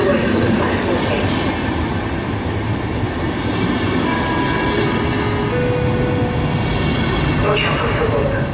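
A passenger train pulls into a station with a loud, continuous rumble of wheels and brief metallic squeals near the end, while a public-address voice speaks over it.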